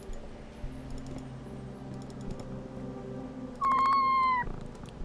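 A cat meows once in a video game, a drawn-out, fairly loud mew near the end, over a soft musical background with faint clicking like keyboard typing earlier on.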